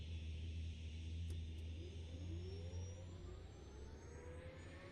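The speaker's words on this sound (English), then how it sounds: "I accidentally turned the engine off. It's funny how the noises keep working though." Helicopter engine in the video game Arma Reforger, a steady low droning hum with a whining pitch that slowly shifts and sweeps downward, fairly faint and continuous with no talking.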